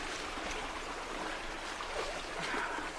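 Clear creek water flowing steadily nearby along a stream with an easy path beside it, a continuous broadband rushing and trickling wash with no talk.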